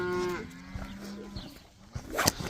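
Cows on a farm give a few low moos, one long call at the start and then shorter ones, over quiet outdoor background noise.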